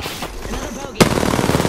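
Gunfire in the video game Apex Legends, a sudden loud burst of rapid automatic shots after a quieter lead-in, continuing as a dense rattling stream.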